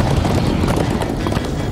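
Horses gallop in Minecraft Story Mode with a fast, steady drumming of hooves, loud and close, mixed with rushing noise throughout the short run.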